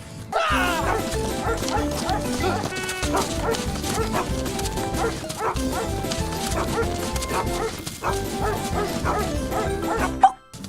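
Several dogs bark, yip and whine excitedly and almost continuously, close by, with a busy overlapping chorus and a sharp loud bark near the end.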